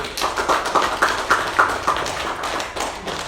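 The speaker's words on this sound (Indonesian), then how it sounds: "Yuk kita kasih aplaus untuk presentasi kelompok 1" A classroom group claps after a group presentation, a fairly loud run of evenly spaced, rhythmic hand claps lasting about three seconds, with no talk.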